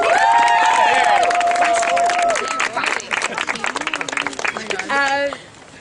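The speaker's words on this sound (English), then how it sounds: "I think we should first applaud him" Applause and cheering from a crowd swell up, with busy clapping throughout, sustained voices, and a tonal sound near the start before it fades.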